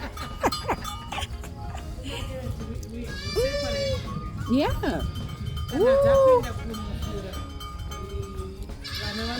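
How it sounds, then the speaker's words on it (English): Young goats bleat in a farm maternity pen with all females and babies, several distinct wavering calls rising over a busy barnyard background, with a brief spoken word and some talk mixed in. "This is the maternity wing of the goat."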